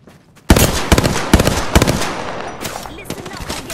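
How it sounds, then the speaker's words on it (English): Rapid video game gunfire rattles in loud, close bursts of automatic shots, easing into scattered pops and a lingering echo. "Listen up, I'm getting shot at."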